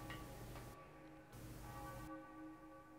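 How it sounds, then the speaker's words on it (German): Bells ring in the quiet Super Mario Odyssey video game. The sustained, resonant peals come in separate strikes that fade softly, with no music or talk. "Man hört nichts außer die Glocken."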